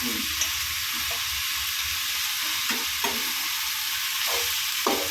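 Tomatoes hitting a hot pan while cooking a prawn and drumstick thokku give a steady broadband sizzle, with a few soft clinks of stirring and no voices.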